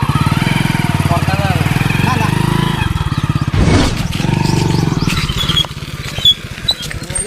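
A motorcycle arrives with a loud, close, throbbing engine idle that rumbles on steadily, then revs up sharply before cutting out, with people talking over it.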